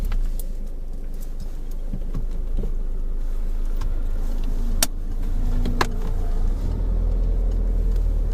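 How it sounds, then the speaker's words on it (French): A car engine restarts and idles steadily inside the vehicle during a practice driving test, a continuous low rumble with a few faint clicks and knocks, no talking. "je vous laisse redémarrer le moteur du véhicule et on repart dès que c'est possible"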